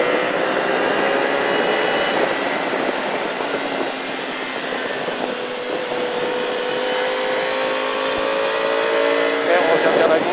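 Dual-sport motorcycle engine revving and accelerating on a riding track at Pau Arnos, a steady loud drone with rising tones throughout, with a voice talking over it.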